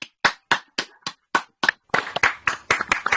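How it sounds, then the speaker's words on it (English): Applause closes an online talk on opening an algorithmic black box, heard as a small, close group of distinct claps, a slow steady series that turns faster and denser toward the end. "A big round of applause, please, to Kerry and Katja."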